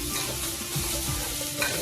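Cumin seeds and coriander seeds frying in a pan for a ridge gourd onion masala: a steady, dense sizzle with light crackling and stirring, brief and close.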